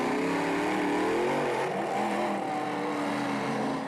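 Two Dodge race trucks, the Raminator and the Ramunition, roar around a racecourse with loud, continuous engine noise and rising and falling revs, the engine pitch sweeping up and shifting as they race.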